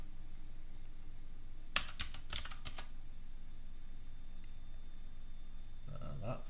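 Several quick keystrokes on a computer keyboard while entering a move in a rock-paper-scissors program, a short burst of clicks followed by quiet, then a faint second flurry of taps near the end.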